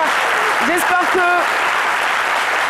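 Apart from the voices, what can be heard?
studio audience applause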